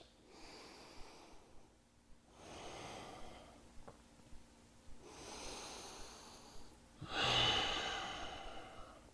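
Slow, deep breaths during a yoga twist, close and fairly quiet, with long airy inhales and exhales separated by short pauses; one exhale near the end comes out as a louder, breathy sigh.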